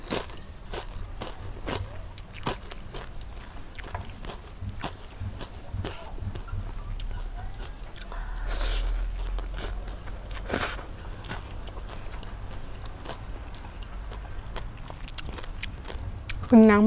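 Crispy pork belly being bitten and chewed over a meal of spicy Thai-Lao papaya salad with rice noodles, steady close crunching and crackling throughout, with brief voices near the end.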